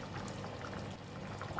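Rinsed fish balls are poured into simmering Thai laksa broth, a soft continuous liquid slosh and bubbling, faint and brief.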